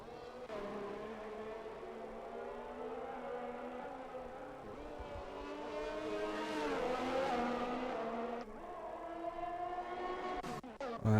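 A race car in a sim-racing league event at Abu Dhabi spins out, its engine whining and shifting pitch over a long stretch, with tire squeal and a sudden cut near the end, loud and continuous.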